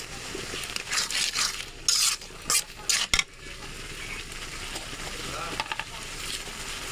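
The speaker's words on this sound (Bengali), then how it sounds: "মশলাটা একটু কষিয়ে নেব" Spice paste fries and sizzles in a pan with bay leaf, chilies and salt while a spoon scrapes and clatters through it in bursts. A steady hiss runs underneath and settles into a constant sizzle.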